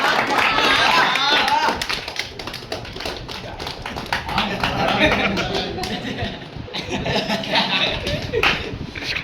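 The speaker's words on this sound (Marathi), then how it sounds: "टाळ्या जोरात." Applause rings out at a felicitation ceremony for singers and musicians in Shrivardhan, a lively rattle of claps going on under someone talking.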